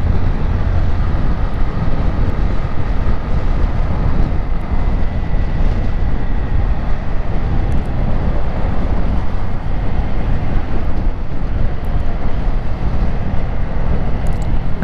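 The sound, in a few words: Honda CG 160 Fan motorcycle riding in traffic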